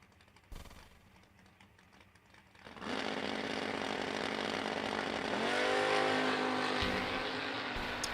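Two drag-racing cars, a first-generation Camaro and a red Nova, launch together at a vintage drag race: after quiet idle, loud engines roar up abruptly and hold a steady, rising rev as they pull away.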